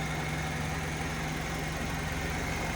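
A 2.0L engine swapped into a Suzuki Samurai idles steadily with a low, even rumble and hum, unchanging throughout.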